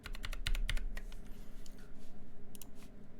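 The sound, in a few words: typing on Duck Lightsaver V3 keyboard with lubed Kailh NovelKeys Cream switches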